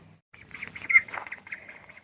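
Baby ducks peep from inside an incubator, giving soft, rapid, high chirps in a scattered cluster that rises briefly and then fades to faint peeps.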